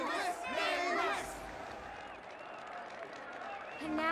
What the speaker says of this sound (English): Let us gift our applause and cheers to these brave and dauntless Nameless.